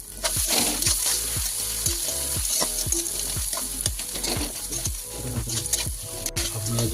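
Fish patty mixture of fish and spices sizzles in a pan over low heat, with a spatula scraping and stirring in a quick, regular rhythm of repeated strokes, close and clear, with no talking.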